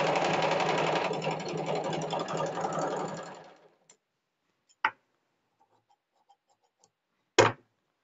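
Sewing machine running a straight seam on a boat neck blouse, steady and close for about three and a half seconds before stopping, then a few isolated clicks and a sharp knock in near silence.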